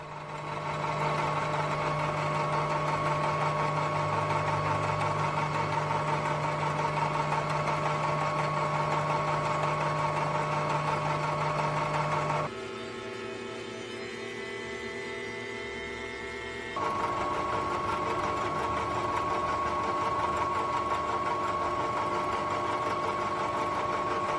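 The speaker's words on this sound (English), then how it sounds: "I might as well go ahead and machine the left and the right edges as well." A K&T 2HL milling machine cuts plate edges with a 3/4 inch 4-flute end mill, giving a loud steady mechanical whine and hum that drops to a lower, different tone in the middle before resuming, with no talk.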